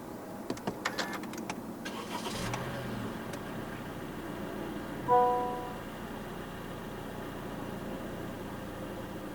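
A 2022 Honda HR-V 1.5 S is started with the push button: cabin clicks and a whir come first, then the engine catches with a brief swell before settling into a quiet, steady idle.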